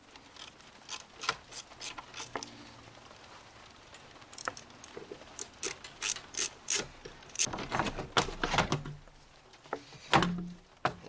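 Hand tools working off the 10 mm bolts on a Jeep Wrangler JK air box, with a run of sharp ratchet clicks and metallic ticks in irregular bursts, close up, with no talking.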